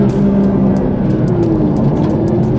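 A Porsche 911 GT3 Touring with its naturally aspirated engine revs hard and accelerates, a loud, steady, close-up roar with rising tone that runs the whole time without talk.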